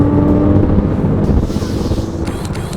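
Porsche Cayman R flat-six engine, a loud, rough low rumble that swells and then eases, with wind noise over the top.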